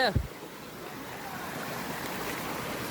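At Durai Falls, river water rushes in a broad, steady roar that fills the whole clip after a brief voice at the start, with the flow sounding close and continuous.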